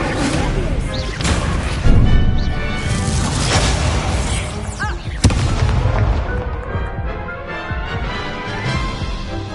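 Incendio fire spells cast in the Hogwarts Legacy video game go off as loud booming, crashing blasts with sharp cracks, layered over dense game effects, with occasional spoken words.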